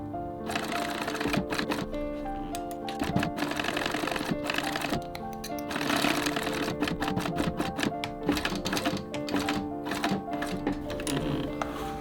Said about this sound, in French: je viendrai placer le tout sur le dos de la pochette pour venir coudre tout ça.